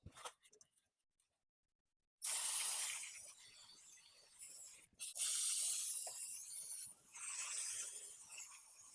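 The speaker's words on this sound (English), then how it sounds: "spray some of the brake cleaner so everything breaks down and cleans the area" Brake cleaner hisses from an aerosol can onto an axle drum in long bursts after a quiet start, with brief pauses between the sprays.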